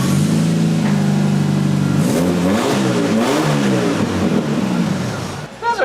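A four-cylinder car exhaust fitted with a new muffler revs up hard several times, the raspy note climbing and falling in repeated pitch sweeps, then dropping away to idle near the end.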